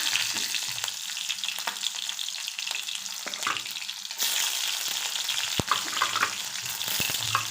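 Mustard seeds and green chillies sizzling and crackling steadily in hot oil, loud and close, with occasional sharp pops and a brief clatter partway through.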